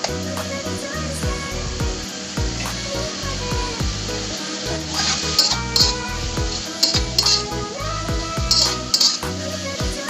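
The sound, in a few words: sautéing corn in a pan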